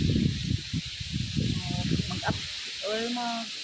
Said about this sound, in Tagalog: Kita mo ang lakas ng hangin. Masayo-sayo yung mga dahon.